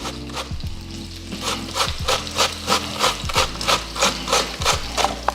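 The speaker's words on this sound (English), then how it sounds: "when I shred my potatoes, I don't, peel them" Unpeeled potatoes shredded on a hand grater for a sausage hash brown casserole, giving a close, loud, rhythmic run of about a dozen rasping strokes with a steady back-and-forth pace.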